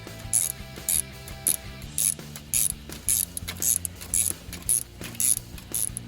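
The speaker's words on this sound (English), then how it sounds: "now we're just going to tighten up the bolts" A ratchet tightens bolts on an alternator bracket in repeated quick bursts of clicking, about a dozen short, close, moderately loud strokes in an even rhythm with brief pauses between them.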